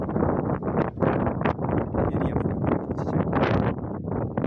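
Outdoor wind buffets a microphone in a cold, open spot, producing loud, continuous gusty rumbling throughout, with someone speaking briefly underneath.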